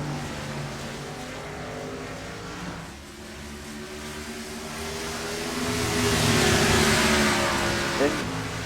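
NASCAR race cars running nose to tail at Road America in iRacing, a continuous drone of engines rising and falling as the pack passes, with commentary spoken over it.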